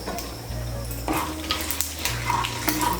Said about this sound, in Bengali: ফোড়নটা দিয়ে একটু নাড়াচাড়া করে নেব